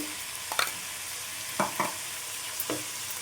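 Ginger garlic paste frying in a pan for a tomato and beans curry, a steady sizzle broken by a few brief scraping stirs of a spoon, close and clear with no talking.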